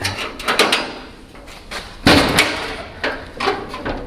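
A door with stiff hinges swings and bangs several times, with creaky, scraping hinge noise between loud knocks and thuds, close by.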